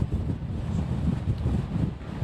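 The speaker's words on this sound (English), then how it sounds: "We are still seeing very powerful winds right now, still gusting very heavily at times" Strong hurricane wind gusts buffet an outdoor microphone in Gulfport during Hurricane Zeta, a steady low roaring rumble with uneven surges and no voices.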